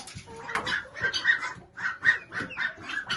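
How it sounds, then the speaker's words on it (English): Ducks on a farm give a series of separate quacking calls, roughly one every third of a second, close by and fairly loud, over low outdoor rumble. "You see them? That's the ducks."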